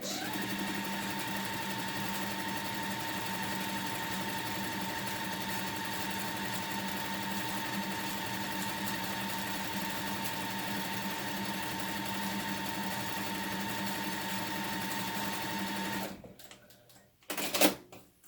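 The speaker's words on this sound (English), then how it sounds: "I'm going to sew a printed strip right sides together with a white strip" A sewing machine runs in one long, steady continuous stretch, stitching a printed fabric strip to a white strip with a quarter-inch seam, a close mechanical whir that stops abruptly near the end, followed by a few faint handling clicks.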